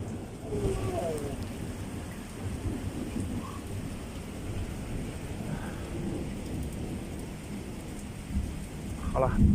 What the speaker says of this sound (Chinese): 倾盆大雨啊，这是真是狂风暴雨啊！